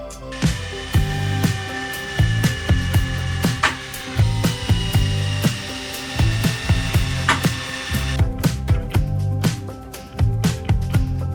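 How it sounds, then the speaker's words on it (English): A drill drives countersunk screws into a wooden cupboard in a van build, whirring loudly and close with rapid clicking and uneven bursts before a short pause and a few final turns. "we're just putting countersinking some screws into here"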